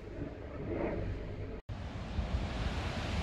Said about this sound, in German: Ja, das ist immer noch so windig hier, ne? Das hat noch nicht aufgehört.